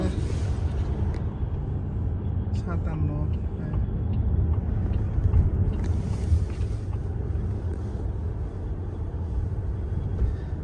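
Inside a driverless robotaxi cruising through Wuhan, a steady low road and engine rumble with wind noise fills the cabin while someone talks over it.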